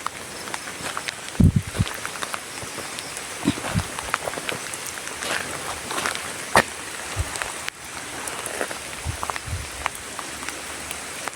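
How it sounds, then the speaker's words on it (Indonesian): Light drizzling rain patters at night near a border area, a soft, scattered ticking on surfaces with a few louder knocks and rustles, like footsteps or movement, mixed in. "Hujan. Hujan gerimis"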